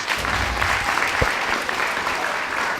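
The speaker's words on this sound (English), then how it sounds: "Give yourself a round of applause" An audience at a talk at Lea Manor claps in a steady, dense round of applause, moderately loud and close, with one sharp thump partway through.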